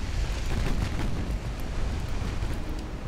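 Naval shells slam into targets in the warship game Ultimate Admiral Dreadnoughts, set in a 1944 US campaign, giving a dense, continuous rumble of heavy impacts and booms that stays loud and even throughout.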